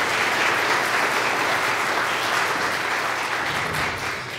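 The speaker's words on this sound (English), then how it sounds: "I just want to give a little round of applause for our guest musicians" Church congregation applauding guest musicians, a small quartet, at an Advent Sunday service; sustained, even applause from the whole room at moderate distance, alone without talk.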